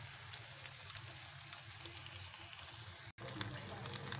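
Semolina-coated potato finger chips frying in hot oil on a normal flame, a steady soft sizzle with faint crackles and pops throughout, briefly cut off near the end.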